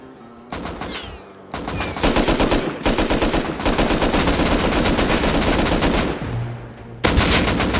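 Automatic gunfire in the survival game Rust crackles in long, dense bursts, loud and close, with short gaps between volleys and a final burst at the end.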